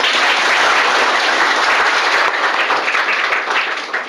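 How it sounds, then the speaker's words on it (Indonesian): A church congregation at an anniversary service applauds together, a dense, loud, sustained wash of clapping that holds steady and then thins slightly toward the end, with no voices. "Tepuk tangan, saudara."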